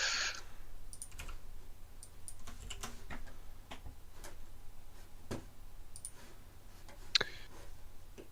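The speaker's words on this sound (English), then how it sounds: "Sorry, just typing no real problem." Typing on a computer keyboard during a game development stream: scattered, irregular key clicks at close range, fairly quiet, over a low steady hum, with no talk.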